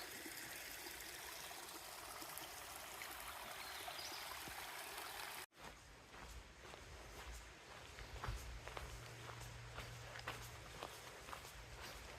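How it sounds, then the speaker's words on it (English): Water from a small creek running down the Pinhoti Trail trickles and flows steadily close by, with footsteps crunching along the trail and brief rustles. "Got a little creek running down the trail."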